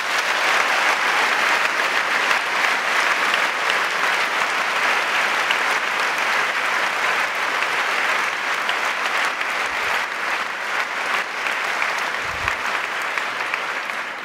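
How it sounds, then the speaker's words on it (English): A large audience at a college event gives the staff sustained, dense applause. The clapping stays steady and loud throughout, with no talk over it. "So a big round of applause for our staff."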